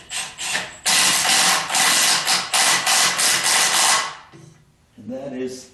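Milwaukee impact gun running transmission bolts on a 1976 Corvette restomod chassis, loud sustained buzzing bursts over several seconds, close up, followed by a quieter pause and a final short burst.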